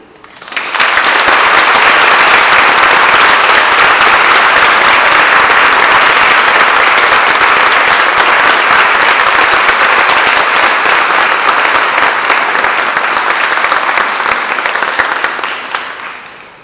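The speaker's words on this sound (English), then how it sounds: "Please join me in another round of applause for Assistant Attorney General Bente" An audience at a Department of Justice event gives sustained applause for about fifteen seconds. The dense clapping holds a steady level before trailing off at the end.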